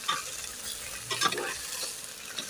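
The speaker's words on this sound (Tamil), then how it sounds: "நல்லா இந்த வெங்காயம் வந்து லைட் ப்ரௌன் ஆகிற வரைக்கும் கொஞ்சம் நல்லா வதக்கி எடுத்துக்கோங்க" Onion, mint and green chili sauté in hot oil, a soft steady sizzle broken by a few scraping stirs of the spatula, close and fairly quiet with no talking.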